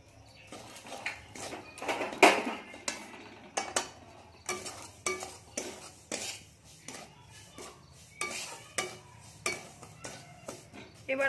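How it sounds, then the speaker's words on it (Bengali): Semolina fries with ghee in a pan while a metal spoon stirs and scrapes, giving repeated clinks and scraping strokes in an irregular rhythm over a faint sizzle. "এবার আমরা এটাকে একটু ভালো করে ভেজে নেব"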